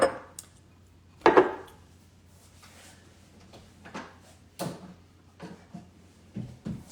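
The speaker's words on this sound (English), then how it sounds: "All right, we're adding our Alfredo. Let's stir it up." Alfredo sauce is stirred in a pot for chicken broccoli alfredo, scattered clanks and scrapes of the utensil against the pot coming in uneven bursts over a quiet hum.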